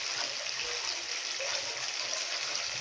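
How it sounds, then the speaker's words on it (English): Water running steadily over rice being washed in a kitchen, a soft continuous hiss and trickle, fairly faint and unbroken throughout. "Guys, you have to wash your rice."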